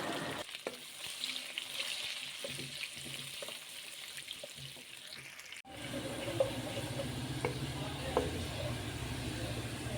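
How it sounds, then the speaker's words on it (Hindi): Steady sizzling of chopped bell pepper frying in leftover hot oil, with occasional stirring clinks and a brief louder crackle partway through. "अब इसी बचे हुए ऑयल में एक दरमियाने साइज़ की शिमला मिर्च काट कर फ्राई कर लेंगे"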